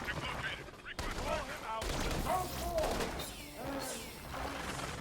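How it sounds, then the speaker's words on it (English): Gunfire aimed at the player in inFamous: Second Son, dense crackling shots and bursts running the whole time under and between other game sounds. "How are you shooting me from where you are right now?"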